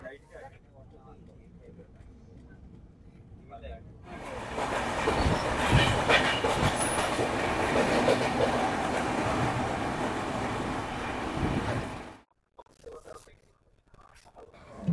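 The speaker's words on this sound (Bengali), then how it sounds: "আমাদের ট্রেন দমদম দক্ষিণেশ্বর পেরিয়ে পার করে যাচ্ছে বালির ব্রিজ" The 13149 Kanchan Kanya Express from Kolkata to Siliguri rumbles across the Bally bridge, a loud steady roar of wheels and carriage rattle heard from inside the train, with someone talking over it before it cuts off.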